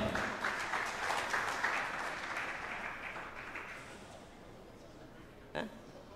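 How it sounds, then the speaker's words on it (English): An audience at an English-language forum claps for the first-place winner, a loud burst of mixed clapping at the start that gradually fades and thins, ending with a single sharp knock. "Clap for him."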